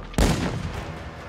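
Gunfire in the video game Modern Warfare 2, a single heavy blast with a long booming decay, loud and near.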